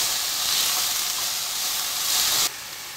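Small diced bacon sizzles and crackles in a pan while being stirred, rendering its fat for a lentil dish; a steady, close hiss that drops abruptly quieter near the end.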